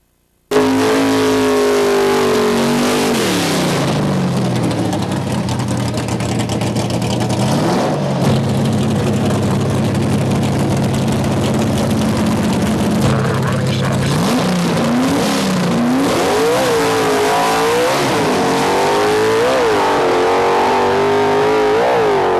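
Hemi-powered drag racing car accelerating down the strip, a loud, continuous engine roar with rising and falling pitch through gear changes, close and sustained throughout.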